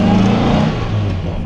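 A classic British sports car, an MGA or Lotus Elan, accelerating hard on the road, its mid-pitched engine rising in a loud, steady drone heard from inside or close by, with no talking.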